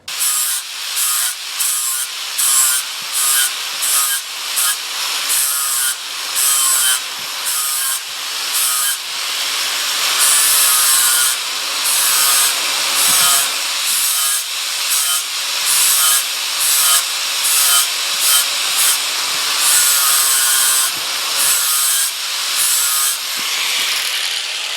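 A half round file rasps back and forth over the tip of a steel knife blade from a flint and steel knife making kit, in steady rhythmic strokes, close and loud, with no talking.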